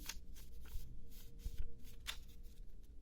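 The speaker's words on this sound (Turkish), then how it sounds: "şimdi buradan da bir kağıt seçeyim" A paper card picked from a stack at a table, giving soft rustling and papery shuffling close by, continuous and faint over a low background hum.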